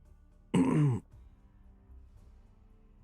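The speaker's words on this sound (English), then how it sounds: "Had to clear my throat a little bit there." A single short, gravelly throat clear from a man streaming a live game, close and distinct, followed by near silence with faint background hum.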